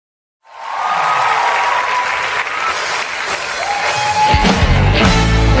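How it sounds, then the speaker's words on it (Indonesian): A congregation applauds during an online church service in Sabah, Malaysia, with sustained, loud clapping that swells in after a brief silence and carries on steadily, with a tonal sound running beneath it. "Tepuk tangan sama-sama."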